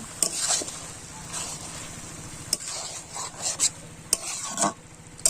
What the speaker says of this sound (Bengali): এবারে কুড়ে রাখা নারকেলগুলো দিয়ে দেব। দিয়ে খুব ভালো করে নেড়ে দেব।